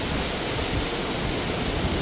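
Vasudhara waterfall near Mana Village, water falling from high above as a loud, even, broadband roar with no pauses, close and filling the whole moment.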